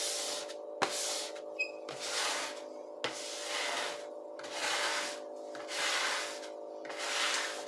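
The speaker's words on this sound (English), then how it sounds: "the easiest way to clean up your counter is with a bench scraper" A bench scraper scrapes bread dough off a kitchen counter in a series of rasping strokes, about six pushes in a steady rhythm, close and clear over a constant low electrical hum.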